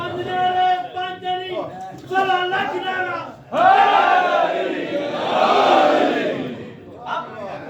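At a Muharram majlis a preacher's amplified voice calls out, and the gathered crowd answers with a loud massed shout of the Nara-e-Haidari slogan that rises, holds and fades.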